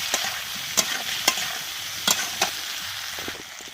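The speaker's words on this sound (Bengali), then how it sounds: "এবার আদা বাটাটা দিয়ে দিচ্ছি আমি, ভালো করে নাড়াচাড়া করে নিচ্ছি।" Ginger paste stirred in a pan for a paneer dish gives a soft sizzle broken by several sharp spatula scrapes and clicks, close with no talking.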